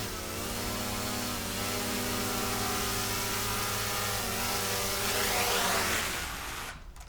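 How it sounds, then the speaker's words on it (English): A drone hovers nearby for aerial filming, its rotors giving a steady buzzing whine with layered harmonic tones that shift slightly in pitch before cutting off near the end. "For aerial shots, you can use a drone, like so."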